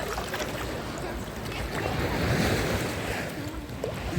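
Steady wash of Black Sea surf rolling in and breaking nearby on an Odesa beach, with wind noise on the microphone and a voice speaking briefly over it.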